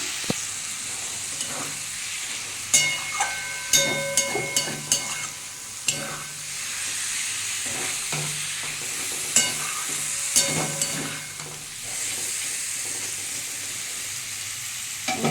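Mustard seeds sizzle and pop in hot oil in a pan while they are stirred for a shrimp dish. A steady frying hiss runs throughout, with sharp crackles and scraping stir strokes close by.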